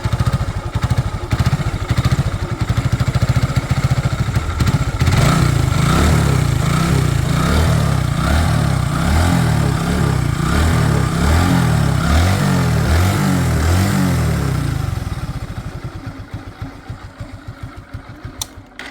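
A Honda Glamour motorcycle engine runs at a close, loud, steady idle with an even rapid thumping, then fades and settles lower toward the end, with no voices over it.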